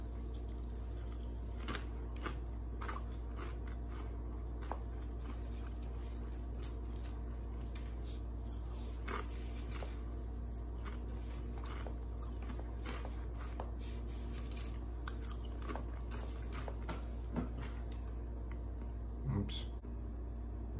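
Salty snack chips crunched and chewed close up in a steady run of sharp bites and crackles, with an even background hum underneath.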